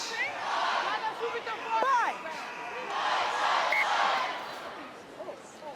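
Stadium crowd at a women's Six Nations rugby match between England and Italy, a broad distant roar of voices swelling and easing with a few louder shouts rising above the babble.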